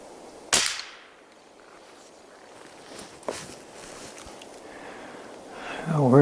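An air rifle, a Benjamin 392 or XL1100, fires at a can downrange: one sharp crack early on, then a second fainter snap a few seconds later, with quiet outdoor ambience and a voice starting near the end.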